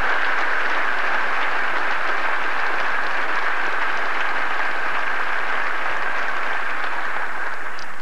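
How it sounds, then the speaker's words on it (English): An audience gives sustained applause for Greg and Benjamin, a steady wash of clapping that holds at an even level throughout. "So please give a round of applause to both Greg and Benjamin."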